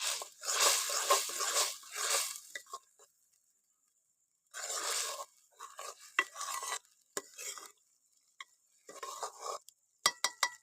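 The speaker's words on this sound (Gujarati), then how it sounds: "ચાલો તો હવે આપણે તેને નાખી દઈએ હવે ગ્રેવીમાં. હવે તેને હલાવી નાખીશું." Thick sev being stirred into tomato gravy in a pot, with bursts of wet squishing and scraping strokes separated by pauses, plus a few sharp clinks of the spoon against the pot, close and fairly quiet.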